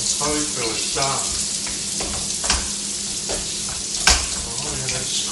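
Prawns and tofu fry in a pan for Pad Thai, giving a loud, continuous close sizzle with occasional stirring scrapes and a sharp clatter near the end. A voice is faintly heard early on.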